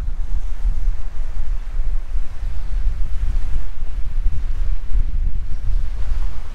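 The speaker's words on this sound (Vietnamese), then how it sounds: "Các bạn sẽ thấy sóng biển ở bên bờ biển Bắc nó sẽ đổ sang bờ biển" Sea waves breaking continuously at Skagen, Denmark, where the North Sea meets the Baltic, a steady loud surf roar mixed with heavy wind buffeting the microphone, with no talk.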